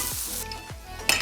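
Hot tadka of spices in oil sizzles as it is stirred into cooked dal for a Uttar Pradesh dal ka dulha dish, a steady close frying hiss with two low stirring sweeps and a brighter crackling burst at the end.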